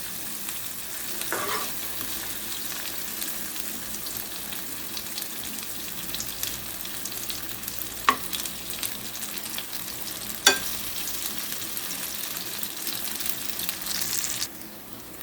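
Banana pieces fry in a hot pan, giving a steady, quiet sizzle throughout with a few sharp utensil clicks and scrapes as they are stirred.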